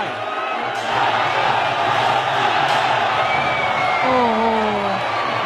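Crowd cheering and shouting in a Muay Thai stadium, a dense continuous roar of voices with scattered whoops and yells, loud and close throughout.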